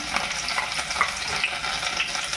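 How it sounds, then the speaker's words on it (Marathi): Chopped green chillies sizzle in hot oil for a Marathi monsoon wild-vegetable dish, a steady broadband crackle with small pops scattered throughout, close and fairly loud with no voices. "तेल गरम करायचं ठेवलं आहे त्याच्यात आपण हे हिरव्या मिरच्या टाकू कापून घेतलेल्या"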